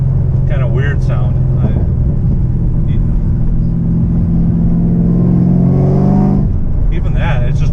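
Chevrolet Camaro ZL1 with an X-pipe exhaust revving, a steady low rumble swelling into a rising rev near the end, heard from inside the car with voices talking over it.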